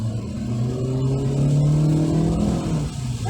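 Engine of a 2022 Chery Tiggo 2 with a 4-speed automatic revving as it accelerates in sport mode, a loud, steady rising drone heard close from inside the cabin.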